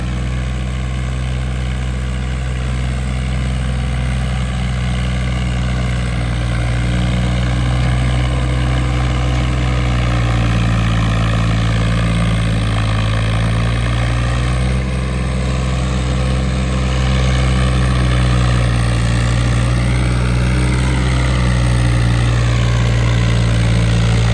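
A Swaraj 855 tractor's engine idling close by, a steady low diesel rumble that holds even throughout with slight shifts in pitch.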